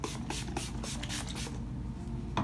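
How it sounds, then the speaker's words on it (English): Mario Badescu facial setting spray mists onto a face in a quick run of about half a dozen soft, hissing pumps, then one more spritz after a short pause, close and clear with no talk. "I'm going to take my Mario Bardescu and just spray my face a few times"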